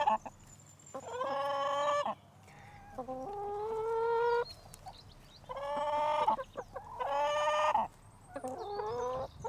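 Several chickens cluck and squawk nearby in a chicken coop shared with ducks, in loud, overlapping bursts separated by short pauses, with no talking.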